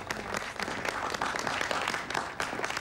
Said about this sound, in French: J'aimerais qu'on applaudisse Monsieur Angelo ici présent